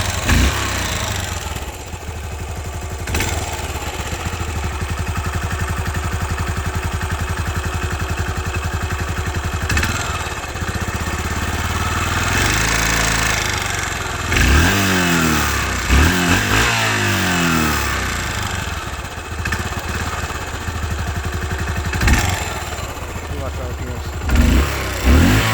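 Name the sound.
Yamaha SR400 motorcycle engine idling and revving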